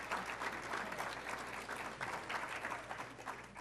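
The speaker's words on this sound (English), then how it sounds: "please give him lots of applause" Audience applause at a college athletics hall of fame ceremony, steady dense clapping from a full room that holds even throughout, with no voices over it.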